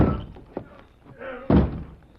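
Heavy thuds strike a locked barn door in a radio drama, two or three solid slams with a loud final blow and brief scuffling between them.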